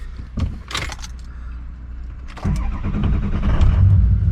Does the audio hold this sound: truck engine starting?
yes